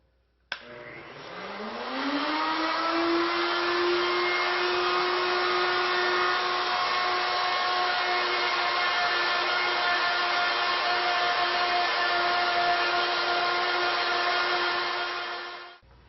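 A router-style power tool milling a wooden pedestal leg into a cylinder on a second pass to final depth, spinning up with a rising whine then holding a loud, steady high-pitched drone before cutting off at the end.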